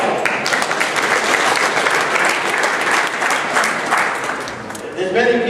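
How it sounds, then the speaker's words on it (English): An audience at a Beacon Hill Chanukah event breaks into sustained, loud applause for the bandmaster, dense clapping that fills the space and tapers slightly near the end. "Give him a round of applause"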